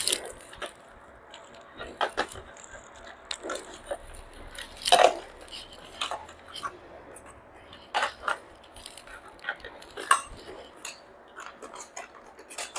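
Small plastic clicks and taps as batteries go into an RC toy car, a scattered series of light snaps and knocks at close range, with quiet pauses between them.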